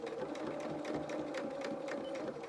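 A sewing machine runs steadily while reverse stitching, giving a continuous fast mechanical whir with a humming tone, close and moderately quiet, with no talking.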